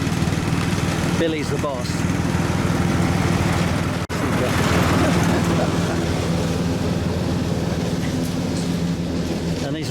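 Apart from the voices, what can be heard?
lawn mower running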